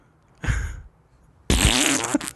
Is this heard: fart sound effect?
yes